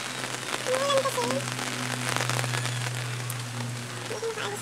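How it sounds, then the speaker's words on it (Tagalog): Steady rain patters as a dense, even hiss close by, with a low hum and a voice speaking briefly over it. "Umuulan kasi."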